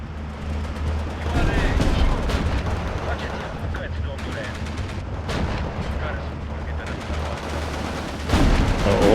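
Machine guns fire in a Steel Division 2 battle, a steady rattle of bursts over low rumbling artillery, with a voice talking throughout.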